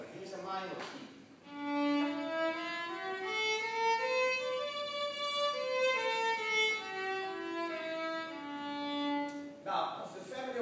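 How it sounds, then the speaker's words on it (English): A melodic instrument plays a minor scale up and back down, even stepwise notes ringing clearly on their own. "Here's a minor key."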